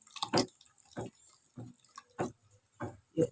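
Soaked SLS is added to a homemade multipurpose liquid soap mixture, making about six close, wet plopping and dripping sounds at irregular intervals with quiet between, and no talking.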